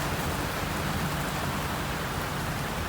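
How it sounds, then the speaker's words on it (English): Heavy rain pours steadily onto a tent at an ATV motocross mud event, a dense, continuous close hiss with no letup and no voices. "You can see the rain pouring off the tent."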